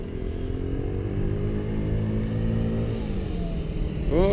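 A TaoTao Blade Thunder 50 four-stroke scooter engine hums steadily while riding, a smooth, fairly quiet drone that holds even before rising slightly at the end.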